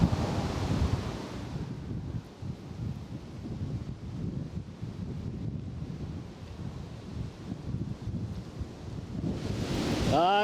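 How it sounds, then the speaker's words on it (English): Gusty wind buffets the microphone at a wild camp beside a poncho shelter, a steady rushing roar with low rumbling swells that rises and falls throughout, loud and close, with no voices. "She's a little bit windy."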